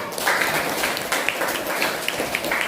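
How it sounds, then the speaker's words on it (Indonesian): A class claps for a student, steady dense applause from many hands filling the room for a few seconds without any talk. "tepuk tangan untuk Aziza."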